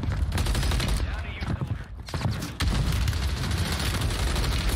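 Gunfire in the Call of Duty MW3 video game: dense, continuous bursts of rapid shots and booms crowd the whole stretch, loud and busy with barely a pause.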